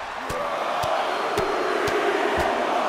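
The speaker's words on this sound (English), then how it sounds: "The sound of this crowd is deafening" Loud arena crowd roaring and cheering during a wrestling match in WWE 2K23, a dense constant wash of noise punctuated by several sharp evenly spaced thuds from the ring.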